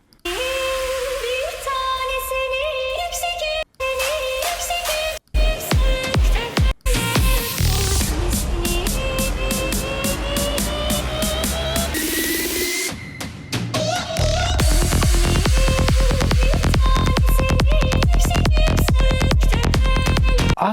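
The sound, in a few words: psytrance track with Indian vocal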